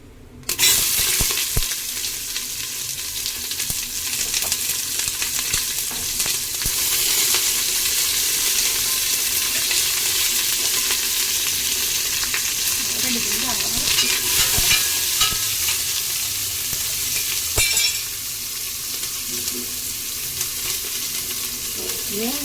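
Onions fry in ghee and oil with bay leaves and whole biryani spices, a loud, steady sizzle with the scrape of stirring throughout, no talking.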